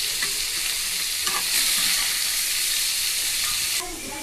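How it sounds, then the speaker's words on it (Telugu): Paneer cubes frying in oil in a pan: a loud, dense, continuous hiss of sizzling close up, with a few faint stirring knocks, easing slightly near the end. "పన్నీర్ ముక్కలని ఇలా ఫ్రై అయిన తర్వాత తీసి ఒక బౌల్లో పెట్టేసుకోవాలి."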